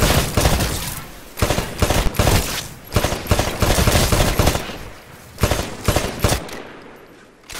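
Rapid bursts of automatic gunfire at shooting-range targets in the video game Titanfall, loud and close, coming in repeated volleys separated by short pauses, then tapering off near the end.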